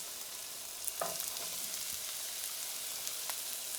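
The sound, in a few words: celery sizzling as it is added to the pan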